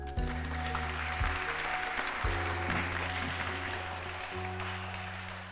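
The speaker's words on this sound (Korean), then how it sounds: "다시 한번 큰 박수 부탁드립니다" Lecture audience claps after Professor Park Won-gon's talk on unification: a steady wash of applause from a large room under a sustained low hum, slowly tapering toward the end.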